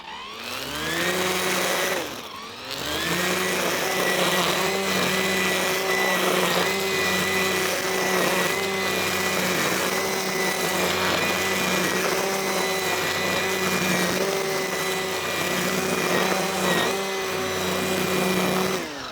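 A Makita cordless brush cutter with reversible rotation runs at high torque in right rotation, a loud, steady, close motor whine with strong harmonic hum, briefly dipping near the start before holding constant to the end.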